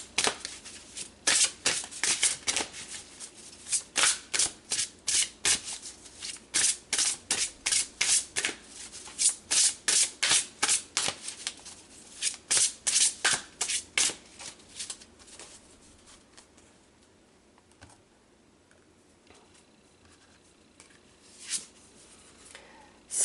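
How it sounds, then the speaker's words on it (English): Oracle cards being shuffled in quick riffling bursts, a long run of sharp papery flutters followed by softer handling as cards are pulled, close and clear with no talking. "let's pull some more cards."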